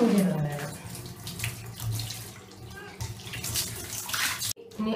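Water pours steadily over a cat's underbody as it is rinsed during a home bath, giving a continuous close splashing and gurgling with brief dips and a sudden short cutoff near the end.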